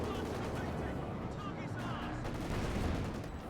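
Infantry section firing in Company of Heroes 2, a dense, steady rattle of small-arms fire over game battle noise, continuous and moderately loud throughout with no pauses.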